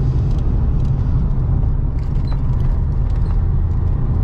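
A 377 bhp Lotus Carlton's engine drones loudly and steadily from inside the cabin while being driven hard, a dense low rumble that holds constant throughout with no talking.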